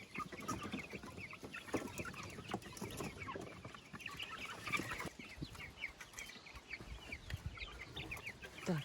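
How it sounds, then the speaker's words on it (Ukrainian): Dense, continuous cheeping from a group of chicks, many high thin peeps overlapping close by with no pauses. "Курчата адаптовуються дуже швидко."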